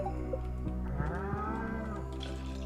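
Cattle mooing in the farming game Stardew Valley, a few short game moos rising and falling over steady background music, fairly soft and close with no talk.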